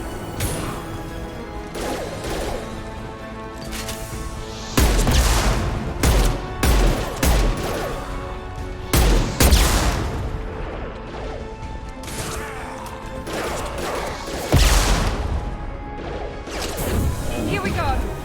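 Gunfire from the video game Mass Effect 2 rings out in repeated bursts and sharp cracks over a busy game soundscape, with a voice talking in between.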